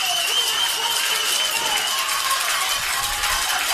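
A high school softball crowd at a semifinal game rises into a steady, loud roar of cheering and clapping that holds throughout, with a commentator speaking over it.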